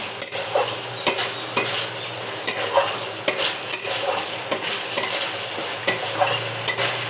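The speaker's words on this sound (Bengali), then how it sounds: "আমি এখানে 1 মুঠ গোবিন্দভোগের চাল নিয়েছি। এখন ভালো করে কষিয়ে নেব।" Gobindobhog rice is stir-fried in a pan with softened tomato: a steady sizzle is broken by sharp, regular clicks and scrapes of the spoon against the pan, close up and without talk.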